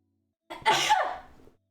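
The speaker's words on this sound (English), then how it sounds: "Gotta sneeze." A single loud sneeze, a sharp intake rising into a forceful burst that trails off over about a second, alone in a quiet room.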